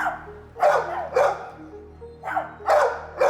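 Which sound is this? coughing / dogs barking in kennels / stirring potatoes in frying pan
dogs barking in kennels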